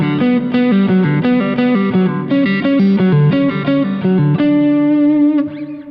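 Clean electric guitar playing a melodic line with the distortion off, bright sustained notes with effects and reverb, steady and loud for several seconds before the last chord fades.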